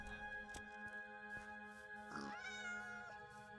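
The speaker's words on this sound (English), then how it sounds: "There's a cat in here." A cat inside a building meows once, clearly and fairly near, with a drawn-out rising call against a constant background hum and a few soft knocks.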